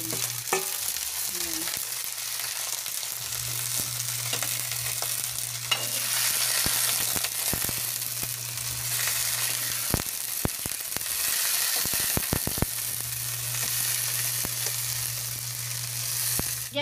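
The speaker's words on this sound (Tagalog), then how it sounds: "Ilagay na natin ang kangkong guys. Unahin natin ang kanyang tangkay." Kangkong stems added to a pan of sautéed aromatics fry with a steady, bright sizzle, joined by a low hum and occasional sharp scrapes and clicks of stirring; a voice speaks briefly at the start.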